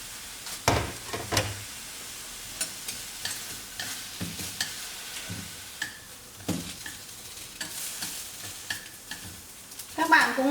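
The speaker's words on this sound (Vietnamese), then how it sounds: "Các bạn cũng nướng gừng với cả hành giống như là chúng ta nấu phở vậy đấy." Ginger and onion roasting in a pan for roast duck, soft frying crackle under repeated scraping and stirring clatter, close and intermittent, with a louder rattle near the end.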